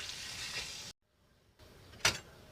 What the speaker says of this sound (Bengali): সয়াবিন আলুটা কষানো হয়ে গেছে, এবার দিয়ে দেবো জল